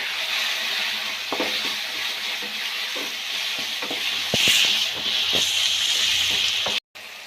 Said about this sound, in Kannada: ಸಾಫ್ಟ್ ಆಗೋವರೆಗೂ ಚೆನ್ನಾಗಿ ಫ್ರೈ ಮಾಡ್ಕೊಳ್ಳಿ